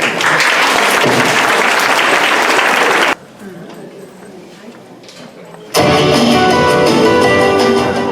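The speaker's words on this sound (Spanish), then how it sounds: "Un forte aplauso." School audience at a Christmas festival gives a loud, dense burst of applause for about three seconds, then it cuts to quiet room noise before loud music suddenly starts.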